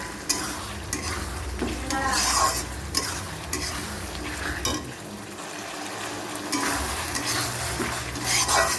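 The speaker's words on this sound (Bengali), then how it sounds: "ভালো করে কষিয়ে নেবো মশলাটা" Masala spices fry with potatoes and taro while being vigorously stirred, a close, continuous sizzle broken by frequent scraping and clattering of a spoon against the pot, briefly quieter midway.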